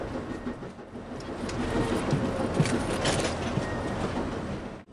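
A passenger train rolls along the rails through New Mexico's Las Cruces country toward El Paso, giving a steady, close rumble with faint rhythmic clicks and rattles and no voices.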